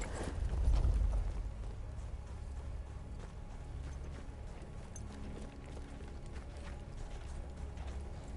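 Horse hooves clip-clop in a steady rhythm in the World War I shooter Battlefield 1, heard over a low rumbling game soundscape with a louder thump near the start.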